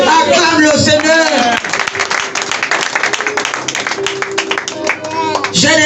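A church congregation applauds during a service, dense rhythmic clapping from a crowd filling the room, mixed with loud voices.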